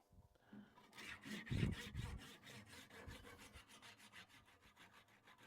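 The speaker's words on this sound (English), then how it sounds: "The saw will do the work." A hand saw cuts through a wood block in steady, rhythmic rasping strokes, close and fairly quiet, quickening slightly near the end of the cut.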